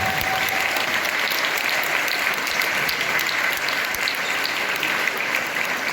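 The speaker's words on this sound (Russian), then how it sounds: "аплодисменты." Sustained, dense clapping from a crowd at the opening of a dance sport cup, loud and even throughout without any talking on top.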